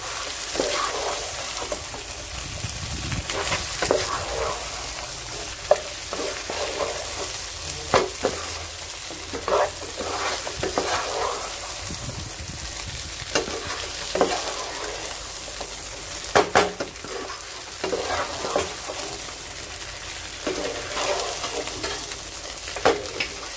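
Capsicum, egg and prawn fry being stirred in a pan, a steady close sizzle with repeated scraping strokes of the spoon against the metal, no voices over it.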